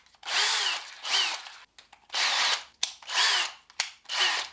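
A JCB cordless power screwdriver, battered from a drop off scaffolding, whirs in five short bursts, each spin rising and winding down, close and loud with brief pauses between.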